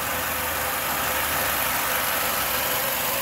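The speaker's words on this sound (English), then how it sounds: "we'll listen to the motor while we're here and we've got it running" A 2007 Nissan Altima S with the 2.5 engine idling steadily at a salvage yard, a constant broadband rumble and hiss that holds even and close throughout with no voices.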